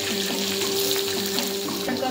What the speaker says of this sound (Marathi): त्याच्यात आपण 2 चमचे तेल घेतलेलं आहे, बारीक चिरलेलं लसूण टाकायचं आहे।